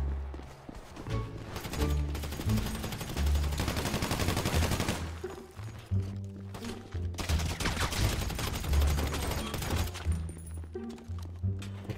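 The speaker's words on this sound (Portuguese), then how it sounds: "Acertei muito tiro nele, velho." Rapid bursts of automatic gunfire in a GTA RP zombie-survival video game, loud sustained volleys with brief gaps and sound effects beneath, and voices faintly in the mix.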